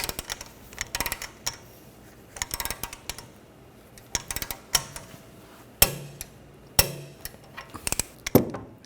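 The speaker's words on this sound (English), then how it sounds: "I'm going to torque this to 73 foot-pounds." Torque wrench clicking as a rear rearward upper control arm bolt is tightened to spec on a 2009-2013 BMW 328i xDrive, with sharp separate metallic clicks and ratchet snaps spaced irregularly over quiet shop ambience.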